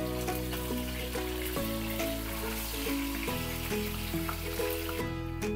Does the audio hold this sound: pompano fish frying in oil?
yes